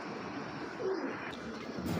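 A racing pigeon gives a single faint, soft coo midway through a quiet stretch of low background hum.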